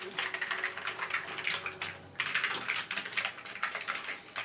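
Rapid clattering keystrokes on an Amiga 500 computer keyboard, close, in quick bursts with a short pause midway, no talk.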